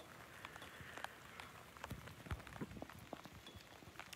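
Rain falls at a wildcat sanctuary as a soft, steady patter with scattered individual drops splashing nearby, fairly quiet and with no talking.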